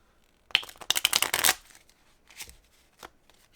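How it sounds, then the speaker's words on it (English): Stiff playing cards are shuffled in one dense, crisp riffle burst lasting about a second, followed by a few softer taps and flicks as the deck settles. "It's hard to even shuffle them."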